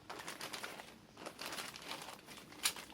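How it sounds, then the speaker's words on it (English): Faint plastic bag crinkling comes in quiet bursts, with a sharper rustle near the end, close by and without voices. "I then put it inside a plastic bag."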